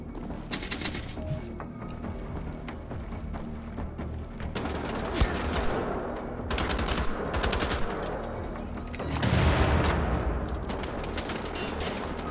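Gunfire in the video game Wolfenstein: The Old Blood, sustained automatic bursts and rapid shots rattling almost continuously, loud and close with a heavier blast near the end.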